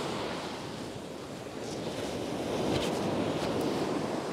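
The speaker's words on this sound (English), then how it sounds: "because the waves are breaking close to shore" Waves break close to shore on a spring fishing beach, a continuous rushing surf that swells louder toward the end, mixed with wind buffeting the microphone.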